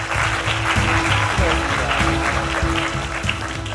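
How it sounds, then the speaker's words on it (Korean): A hall audience applauding soldiers after their lectures, with dense sustained clapping throughout and a voice briefly heard over it. "다시 한번 큰 박수 부탁드리겠습니다"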